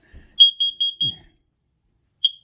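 X-Sense smart carbon monoxide detector in test mode sounds four quick loud high-pitched beeps in a row, then one more beep after a pause, with faint handling noise.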